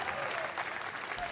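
A crowd at a Summer Game Fest game reveal applauds and cheers steadily, a dense wash of clapping with no pause.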